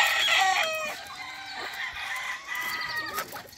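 Rooster crowing with hens clucking around it, a breeding pair of fighting fowl, loud and close at first, then a steady mix of clucks and calls carrying on alone with no voices.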